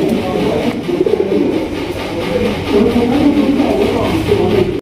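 A pair of Bombay pigeons coo steadily at close range, their low, throaty calls overlapping and repeating through a dense, continuous background murmur.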